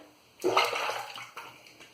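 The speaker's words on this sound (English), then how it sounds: "Rinse off the brush a bit." Boar shaving brush rinsed under running tap water, a short close splashing burst that tapers into a softer trickle.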